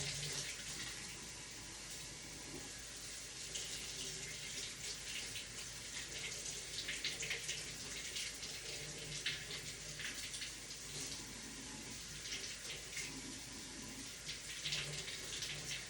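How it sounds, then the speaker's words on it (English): Tap water running steadily to rinse paste off, a continuous soft splashing rush with no pauses, heard alone without voices. "let me rinse this paste off real quick"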